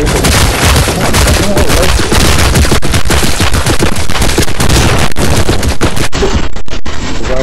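Loud, dense rapid gunfire in a wasteland shooter video game, continuous automatic bursts with booms packed together for several seconds, briefly thinning near the end.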